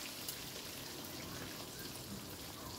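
Mutton fat frying in a pan with cumin, a faint, even crackling sizzle like light rain, continuous and without talk.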